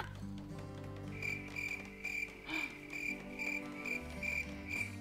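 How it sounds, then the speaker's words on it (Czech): A cricket chirps in short, evenly spaced trills over a low background hum, faint and steady, with no voices. "Já slyším jenom cvrčka."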